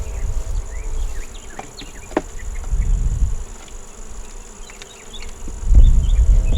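Honeybees buzzing around a small hive in an apiary, a steady insect drone with several louder low swells as bees pass close to the microphone.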